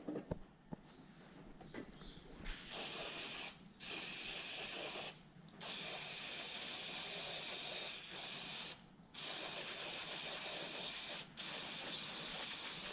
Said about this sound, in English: I'm going to just give it a quick clean with some brake clean